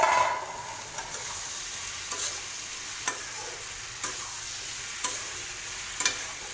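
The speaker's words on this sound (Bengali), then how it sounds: "ভালো করে নেড়ে নেব।" Vegetables and chopped coriander leaves stirred in a frying pan for a bitter gourd recipe: a continuous loud sizzle with regular spatula scrapes about once a second, close by, and no talking.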